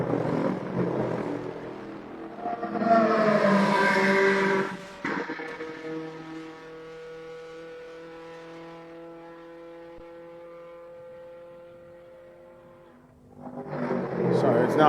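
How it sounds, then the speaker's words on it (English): BMW saloon race car competing in a regional saloon class on a circuit, rushing past loud around three to five seconds, then a long fading engine drone, with another car approaching at the end; speech-like mid-band energy overlaps the pass. "That's the BMW that's just gone across the line"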